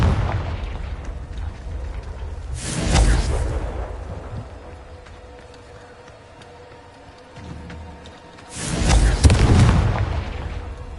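Confringo blasting spells go off in Hogwarts Legacy as two big booming explosions, the first bursting and rumbling away, the second a louder blast a few seconds later, with quieter game ambience between them.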